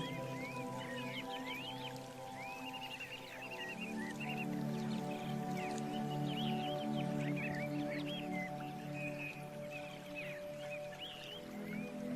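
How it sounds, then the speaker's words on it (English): Water flows steadily in a gentle, continuous wash, with birds chirping lightly above it and no voices. "And sense that flowing water."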